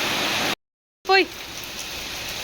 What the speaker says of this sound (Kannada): ಇವತ್ತು ಯಾಕೋ ತುಂಬ ಮಳೆ ಬಿಡ್ತಾನೆ ಇಲ್ಲ.